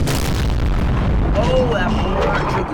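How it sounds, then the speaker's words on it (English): Heavy in-game artillery from Napoleon Total War booms in a dense, continuous rumble, a big cannon among a four-gun battery, loud and sustained across the battle din with no clear separate shots. "Holy crap, that's a big artillery piece."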